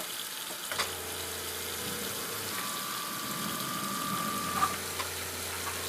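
Water runs steadily from a faucet fed by a Suburban IW60 on-demand water heater, a continuous close hiss and rush after a faint click at the start, with a soft hum underneath.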